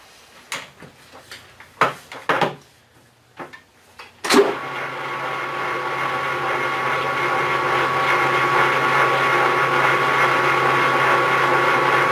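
A machine cutting a metal part: several clunks and knocks at first, then a motor spins up into a steady, loud whir with a high tone that holds to the end.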